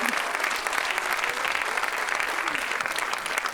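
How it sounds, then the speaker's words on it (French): An audience at a talk on menopause breaks into loud, sustained clapping from many hands, a dense, even patter that fills the whole stretch with no voice on top. "on peut l'applaudir"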